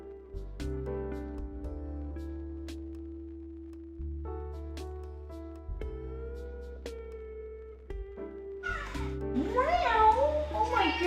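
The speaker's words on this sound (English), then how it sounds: "Oh my god, that was such a little pathetic meow." A cat giving a few small, thin meows near a person who talks over most of the sound, with short tonal calls rising near the end.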